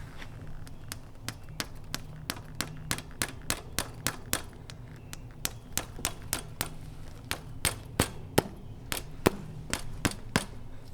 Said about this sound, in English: we're going to hammer a nail into the tire